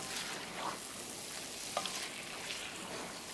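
Spiced meat for shahi korma fries in a pan, a soft continuous sizzle with faint scrapes of stirring, heard quietly and alone.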